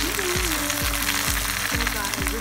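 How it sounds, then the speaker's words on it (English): Food sizzles steadily in a pan on a stovetop ring, a close, continuous frying hiss with soft periodic stirring sounds throughout. "Here, the sizzling."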